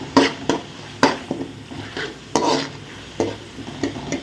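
Ginger garlic paste sizzles in a pan while a spoon scrapes and stirs it, giving a string of sharp clatters and scrapes over a soft steady fry.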